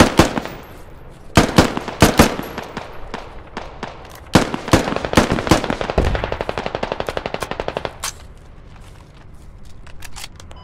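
Sustained automatic gunfire in the video game Squad, with loud close bursts and single shots giving way to a long rapid stream of rounds, then more scattered shots toward the end.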